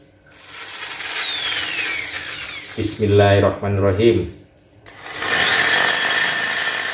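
A power drill fitted with a concrete bit bores into a motorcycle wheel rim, a loud close whining grind that stops briefly mid-clip and then resumes, with a short spoken phrase near the start.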